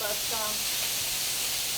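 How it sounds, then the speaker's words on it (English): Stir fry hissing and steaming steadily in a hot pan, a continuous close sizzle with a voice briefly audible over it. "There's a lot of steam going on here"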